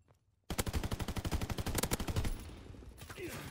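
Rapid automatic gunfire from a weapon in a WW2 video game, a fast loud burst of closely spaced shots for about two seconds, then quieter game noise with faint talk.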